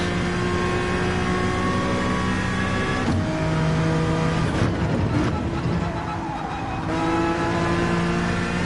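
A Red Bull race car engine in Gran Turismo 7 drones at high revs with clear harmonic whine, shifting pitch as it brakes and accelerates through corners, loud and continuous under a talking voice.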